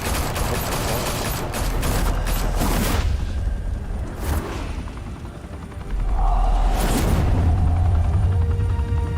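Loud bursts of gunfire and booming blasts rattle through an action scene in a Batman video game, with heavy rumbling in the gaps between volleys and no one talking.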